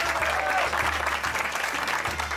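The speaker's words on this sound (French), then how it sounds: "Applaudissements pour Clotilde." A small group applauds the cook Clotilde after a medieval-style feast of poultry, a steady wash of clapping hands throughout, moderately loud, with faint voices underneath.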